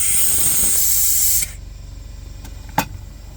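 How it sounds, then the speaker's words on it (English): A brake bleeder pulls excess fuel from a BMW E46 that sat for five years, giving a loud steady spraying hiss that cuts off abruptly, then a quiet lull broken by two brief clicks or pops. "Can you guess what I'm gonna clean up this extra fuel with? Yep, a brake bleeder."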